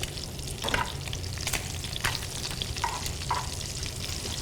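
Shrimp pan-fry on a low-set old stove with a dense, steady sizzle and scattered sharp pops and crackles throughout.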